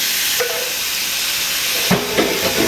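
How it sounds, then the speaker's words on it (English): Ground meat for a no-bean chili sizzling in a hot pan, a steady loud hiss filling the whole stretch, with a few clunks of the pan or utensil near the end. "So now I'm going to add the ground meat to the seasoning."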